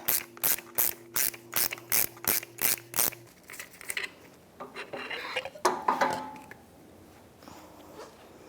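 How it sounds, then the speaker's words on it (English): Wrench ratcheting rapidly off a front strut nut on a 2002-2005 Ford Explorer, a burst of about ten sharp rhythmic clicks, then looser metallic rattling and clinking as the nut spins free, close and fairly loud. "So now I can hold onto the strut and spin this off."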